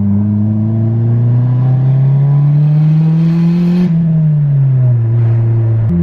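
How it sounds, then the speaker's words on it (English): Turbocharged car accelerating under light boost on a neighborhood street, heard from inside as a loud steady engine drone whose pitch climbs through one gear, dips briefly at a shift, then eases off, with no talk. "I'm gonna get into a little bit of boost right here"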